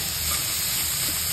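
Vegetables frying in hot oil in a kadhai, a steady loud sizzle and hiss that holds evenly throughout with no talking.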